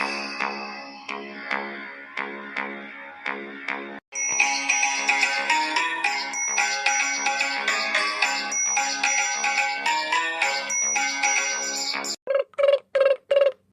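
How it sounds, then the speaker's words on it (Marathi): An incoming call sets a mobile phone ringing: a repeating electronic melody played through a small speaker, with soft pulsed notes at first, then a fuller, louder tune, ending in a few short bursts, heard on its own. "शिवल्याचा आत्ता फोन आला, अजून कटला."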